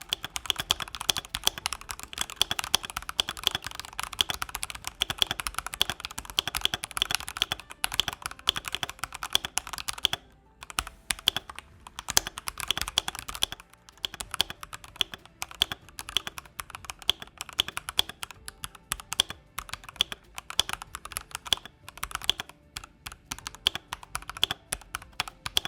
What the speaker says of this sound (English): I can definitely show you how it sounds.